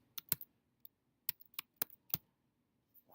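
A computer keyboard clicks during work in a spreadsheet, about eight sharp, faint keystrokes in uneven clusters over a quiet background, with no voices.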